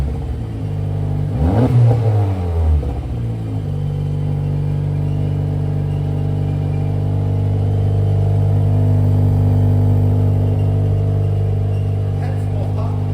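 A modified Honda FL5 Civic Type R revs hard, then settles into a deep, droning exhaust note that holds steady and loud, with people talking faintly alongside.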